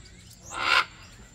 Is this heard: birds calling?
yes